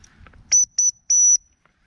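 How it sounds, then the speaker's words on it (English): Dog whistle blown three times at close range, a short shrill tone, another short blast, then a longer sustained pip, each piercing and high, following faint low rustling. "So I get the actual whistle out, shall I?"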